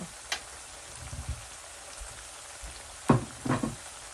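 Homemade French fries frying in a pan, a soft continuous crackle and sizzle with a few louder bubbling bursts and knocks, no voices.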